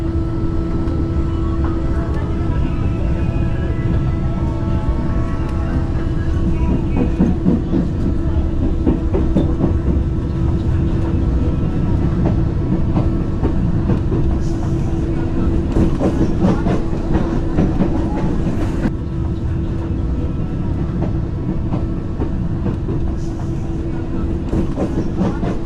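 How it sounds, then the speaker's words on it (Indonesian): A KRL commuter train in Jakarta rumbles steadily along the rails with rhythmic clattering and a constant low hum, loud and close throughout. "Kereta komuter lainnya sudah jalan."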